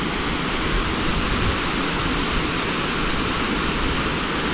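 Rainbow Falls waterfall roaring steadily up close, a dense, unbroken rush of falling water with no voices over it.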